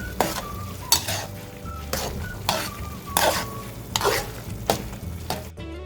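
Pork being mixed with oyster sauce in a pan, a steady sizzle under repeated scraping and clanking strokes of a utensil against the pan, close and fairly loud.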